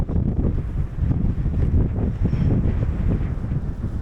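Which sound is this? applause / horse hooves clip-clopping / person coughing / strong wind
strong wind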